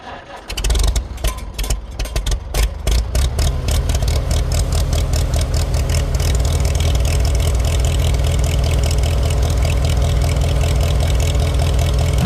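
An old tractor engine with a 6-volt system cranks with a few sputtering turns, then catches and settles into a steady, rhythmic chugging idle, close and fairly loud.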